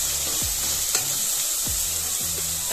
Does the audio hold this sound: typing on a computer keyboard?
no